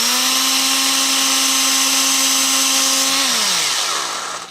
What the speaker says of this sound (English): So that is the reason you want to pre-drill in wood. I'm just going to do this with the hand drill.